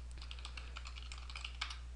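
Typing on a computer keyboard, a quick run of light, close key clicks heard alone over a faint steady hum.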